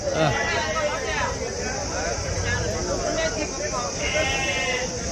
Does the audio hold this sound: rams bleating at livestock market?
yes